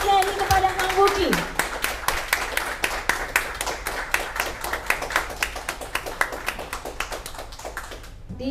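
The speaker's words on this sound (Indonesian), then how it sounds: "kita gemuruhkan dengan tepuk tangan penyerahan bendera aksi Mas Dani" A crowd applauds at a flag handover ceremony: dense, steady clapping that starts loud and continues for several seconds, with a voice briefly heard at the start.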